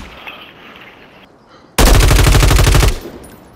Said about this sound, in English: I'm taking enemy fire!